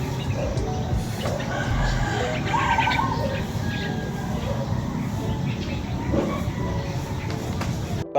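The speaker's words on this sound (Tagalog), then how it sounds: "marami kang maririnig ng mga hayop katulad na lang ng ibon" Roosters crow and hens cluck in a busy farmyard in the morning, with other birds calling and a voice speaking faintly in the background.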